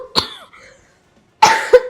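A person coughs twice, close to the microphone: a sharp first burst, a short silence, then a second rougher cough with a brief follow-up catch, with no talk around it.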